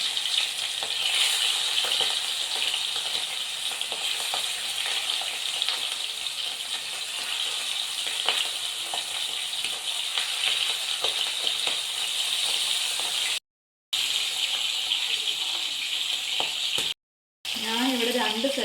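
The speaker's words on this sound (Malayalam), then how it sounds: "ഇപ്പോൾ എണ്ണ നല്ലവണ്ണം ചൂടായിട്ടുണ്ട് അതിലേക്ക് ഈ കൊഞ്ച് ഇട്ട് ചെറുതായിട്ടൊന്ന് ഫ്രൈ ആക്കിയെടുക്കാം" Prawns shallow-fry in hot oil for a Kerala-style prawn roast, giving a steady, bright crackling sizzle that carries on close by, broken by two brief gaps of silence.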